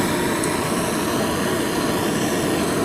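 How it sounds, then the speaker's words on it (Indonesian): Gas torch flame lit for welding thin aluminium plate, a steady, loud broadband roar that holds evenly throughout without breaks. "Langsung saja kita bakar, langsung saja kita nyalakan gas apinya"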